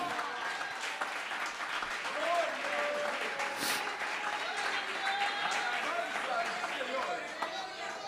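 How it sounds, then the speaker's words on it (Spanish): A church congregation in Bonaire claps loudly to the Lord during a revival service, steady dense applause with murmured voices and music tones underneath throughout. "Dele fuerte ese aplauso al Señor."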